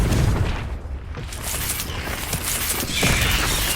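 A Confringo fire spell bursting in the video game Hogwarts Legacy, a loud booming blast with a rumbling crash that swells again near the end, dense and continuous across the clip.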